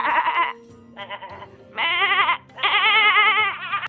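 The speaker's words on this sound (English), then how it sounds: "I have to go find another sheep sound effect" Sheep bleating in several wavering, nasal calls, close and loud, coming in four bursts of varying length with short gaps between.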